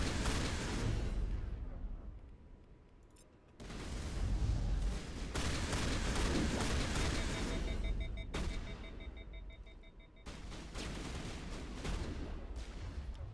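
Assault rifle fire in the Mass Effect video game, loud dense bursts of rapid gunshots that run in long stretches with brief drops between them, up close.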